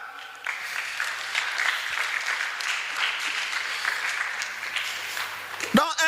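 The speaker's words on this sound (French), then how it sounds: "On acclame." A church congregation applauds in a steady, even burst of clapping that lasts several seconds and then stops abruptly.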